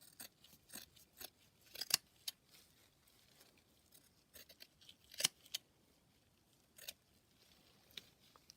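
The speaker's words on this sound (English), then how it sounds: "So I'm just gonna cut off the excess." Scissors snipping off excess from a wire bra for a carnival costume, a scattered series of quiet crisp cuts at close range with pauses between them, no talking.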